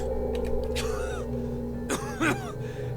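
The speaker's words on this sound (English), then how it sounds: "He shudders with a cough." A man coughs in a Pillars of Eternity game scene, a shuddering cough with a couple of harsh bursts near the end over a steady low background hum.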